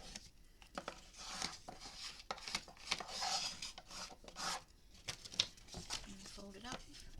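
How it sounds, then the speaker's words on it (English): Glued paper is rubbed down onto box board in quick, rasping strokes with brief pauses and faint crinkles, close and fairly quiet. "And fold it up and some more burnishing."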